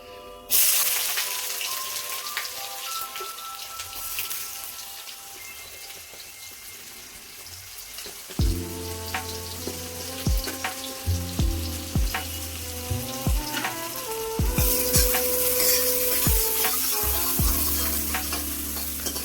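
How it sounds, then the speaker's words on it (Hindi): Onions and cumin seeds fry in hot oil in a kadhai for aloo gobhi, with a steady loud sizzle that jumps sharply when the onions drop in, then repeated scraping stirs and clinks over the frying. "अब ये प्याज फ्राई करूंगी"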